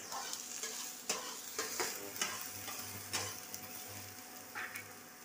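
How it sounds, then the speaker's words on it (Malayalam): Onions and green chilies are sautéed with two eggs in a pan, giving a soft sizzle broken by several sharp spatula scrapes and taps at uneven intervals, fairly quiet and close, with no talking. "ഉള്ളിയും പച്ചമുളകും അരിഞ്ഞത് വരട്ടി, അത് കഴിഞ്ഞ് രണ്ട് മുട്ടയും ഒഴിച്ചു. വരട്ടുകയാണ്."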